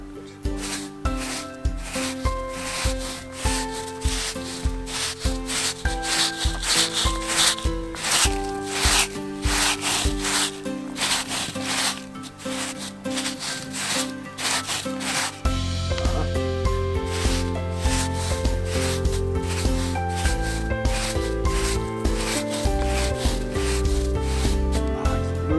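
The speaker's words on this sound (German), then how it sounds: "Mit einem relativ harten, scharfen Besen kann man sehr gut die Wurmhäufchen verteilen." Hard, stiff broom sweeping worm casts across a lawn in autumn: continuous close scratchy rubbing strokes in a steady repeating rhythm, with no voices over it.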